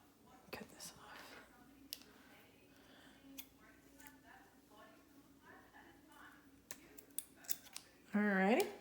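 Small clicks and snips of scissors cutting dried corn husk, close and quiet, scattered over several seconds, with a brief louder rustle of husk being handled at the end.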